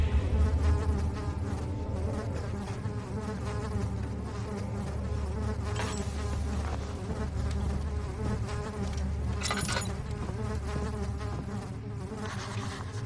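Flies buzz steadily and close in a dark castle setting from the horror game Amnesia: The Dark Descent, a dense insect drone that holds over a low rumbling ambience for the whole stretch, with brief brighter swells.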